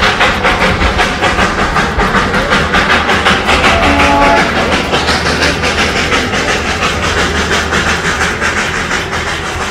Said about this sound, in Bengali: দেখতে পাচ্ছেন ইঞ্জিনটা আসছে, তার সঙ্গে ট্রেনের বইগুলো পিছন পিছন